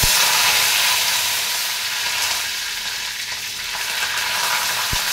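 Curry leaves drop into hot oil already holding fenugreek seeds and fry for a nathili fish thokku, giving a loud, steady sizzle that eases slightly midway, with a sharp pop near the end and no talking.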